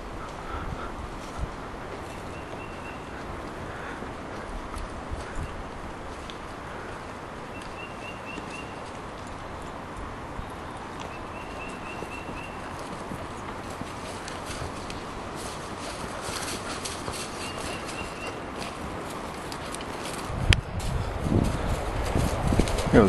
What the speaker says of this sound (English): Lynn's on Chex13mcintosh going up the hill. Very steep hill. Horse is doing just fine.